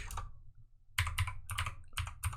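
Close computer keyboard typing comes in short clustered bursts of crisp key clicks, with a half-second pause early on, quiet and without speech.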